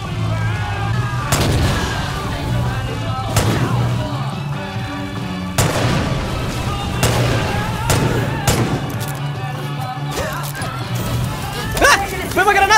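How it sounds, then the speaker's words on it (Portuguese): Heavy booming blasts and gunfire in the video game Far Cry 5, a grenade explosion among them, with several loud impacts spread across the clip and dense battle noise throughout. "Foi uma granada!"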